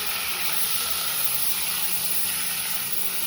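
Paneer frying in a pan gives off a steady, even sizzle throughout, with no talking.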